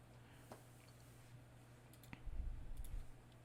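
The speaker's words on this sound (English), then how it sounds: "And I'm just typing these in." A computer keyboard is typed on while entering dimensions for a Tinkercad design: a few sparse, light clicks and a brief cluster of taps over a low steady hum, no talking.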